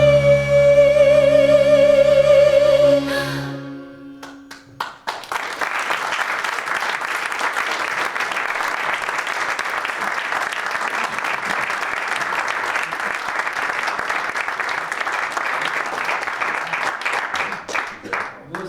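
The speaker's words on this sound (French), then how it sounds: "Vous avez raison d'applaudir." An audience at a small Paris theatre, the Petit Montparnasse, bursts into loud, sustained clapping after a sung piece ends. The final sung notes fade first, then dense applause runs on to the end.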